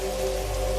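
Steady rain falling, a constant close hiss and patter with a low rumbling bed underneath, unbroken throughout with no voices.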